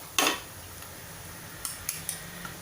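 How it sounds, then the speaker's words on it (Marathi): Soaked gram flour batter goes into a pan of Maharashtrian zunka, followed by a sharp metal spoon clank and several lighter scrapes and taps against the pan, quiet and close. "आता आपण हे भिजवलेलं पीठ घालून घेऊया"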